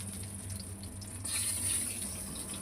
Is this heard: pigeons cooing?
no